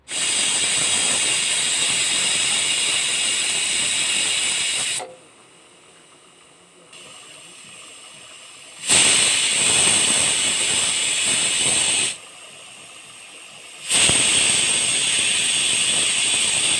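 A pressure cooker on a stove vents steam in a loud, steady hiss that cuts off twice for a few seconds and then resumes at full strength, close and harsh, with no voices.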